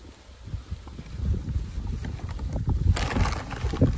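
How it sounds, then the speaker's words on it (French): Gusty wind rumbles and buffets outdoors, rising and falling in low bursts, with brief rustling and a louder broadband swell near the end. "comme il y a beaucoup de vent"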